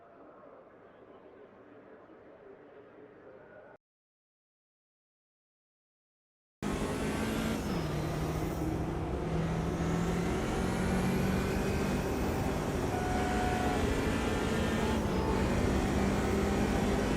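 A BMW 2002 Turbo vintage touring car in the racing game AMS2 rasps at Curvelo with a loud, near engine note that rises and falls through shifts, after a quiet muffled opening and a brief silence.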